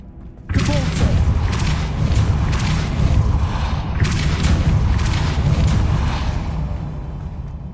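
Hogwarts Legacy Depulso spell cast on PC, a loud booming blast that starts abruptly and rolls on with dense thuds and rumbling mechanisms throughout.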